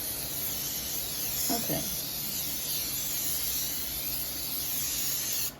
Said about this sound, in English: That's butter spray.